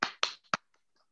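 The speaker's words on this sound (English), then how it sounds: "can the women on this line just give a hand clap to the men that are very much so present" Three sharp hand claps ring out in quick succession, close and crisp, followed by a couple of faint taps.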